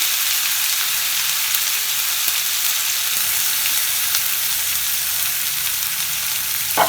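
A spice paste with turmeric and salt fries in a pan, making a loud, continuous sizzle that holds steady from start to finish with no talking.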